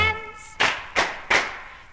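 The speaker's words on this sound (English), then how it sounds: "If you believe in fairies, then clap your hands." Hands clap three times in an even rhythm, each a sharp, close smack that fades quickly, just after a brief sung note from a Peter Pan musical number.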